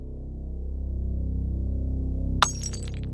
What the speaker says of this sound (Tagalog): Nagising po ako sa ingay ng basag na baso.